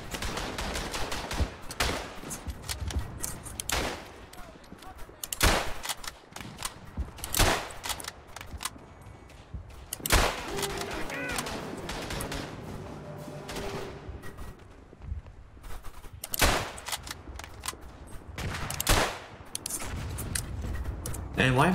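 Rifle gunfire in the World War I trench shooter Verdun, sharp shots cracking out at irregular intervals amid a dense, noisy battle din, with a voice talking over parts of it.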